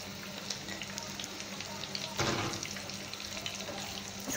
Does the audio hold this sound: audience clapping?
no